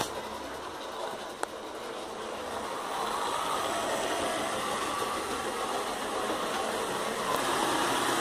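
A model locomotive runs around a layout, a steady mechanical whirring and rumble that swells slightly partway through, with a brief click early on; no talking.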